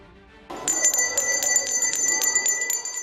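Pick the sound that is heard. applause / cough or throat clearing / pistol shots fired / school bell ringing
school bell ringing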